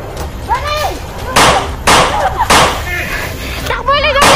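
Bursts of gunfire crack out in short volleys amid a busy game soundtrack, while people talk excitedly over the shots.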